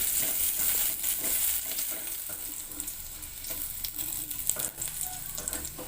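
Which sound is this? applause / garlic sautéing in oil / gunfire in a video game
garlic sautéing in oil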